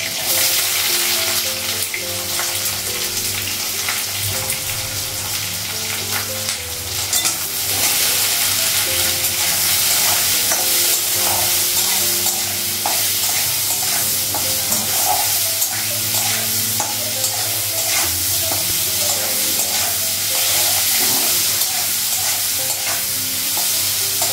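Potatoes with green and dried chillies fry in a pan, a loud continuous close sizzle with steady scraping and stirring throughout, no speech.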